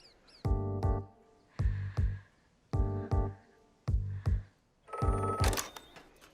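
A telephone bell rings in repeated double bursts, four clear rings with short pauses between them, loud and close, followed by a harsher electronic burst at the end; no one speaks.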